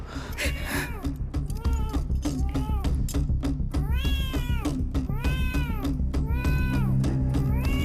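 A cat meows repeatedly and loudly, a string of drawn-out, wavering cries close by over a steady low background hum, set in a horror film scene.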